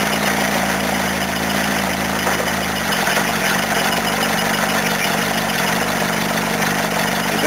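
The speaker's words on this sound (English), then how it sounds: "It doesn't like to idle," A van engine running at a rough, uneven idle with damaged valves, a steady close mechanical drone with low rumble shifting slightly partway through, no voices.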